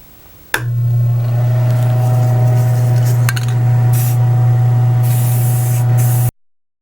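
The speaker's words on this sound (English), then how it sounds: "I'm just going to do a coat of primer over this whole thing" Can of Rust-Oleum primer spraying onto a model wall flat, one long continuous close hiss starting abruptly after a click and running for several seconds before cutting off.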